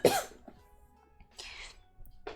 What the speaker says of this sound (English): Oh god, I need to cough for you.